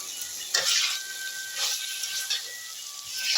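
Vegetables and fried lentil dumplings frying in a pan, a steady close hiss and sizzle with soft stirring scrapes and clinks, no voice.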